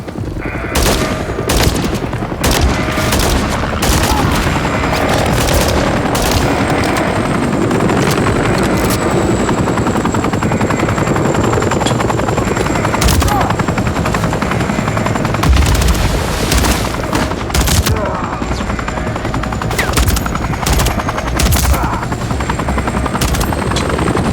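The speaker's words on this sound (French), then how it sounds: "Ghost, je vois plusieurs hélicoptères ennemis approcher du barrage." Helicopter rotors thrum loudly and steadily throughout as enemy helicopters approach a dam, while bursts of automatic gunfire and occasional booms crackle over them in a busy Call of Duty: Modern Warfare III (2023) battle.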